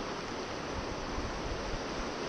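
River water in Yosemite rushes around and against the bottom of a log, a loud, continuous broadband roar with no pauses or voices.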